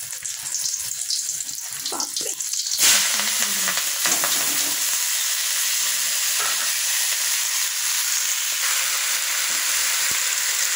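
Chillies frying in a hot pan with vegetables for a lunch meal, producing a steady, loud sizzle and crackle after a sharp burst as they hit the oil, with occasional stirring scrapes throughout.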